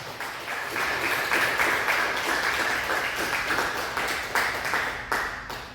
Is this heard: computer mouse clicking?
no